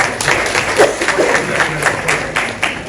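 Audience applause greeting a guest introduced at a televised debate on a cybercrime bill, a steady spread of clapping with a few sharper claps rising through it, mixed with crowd murmur.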